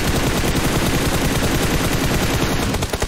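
Rapid automatic gunfire in PUBG, dense overlapping bursts of shots in a fast continuous rattle, loud and close, fading briefly at the very end.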